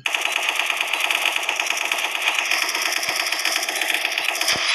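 An ultimate gun fires in the video game Special Force 2 as a continuous rapid automatic burst of sharp shots that lasts the whole stretch, loud and dense with no talk.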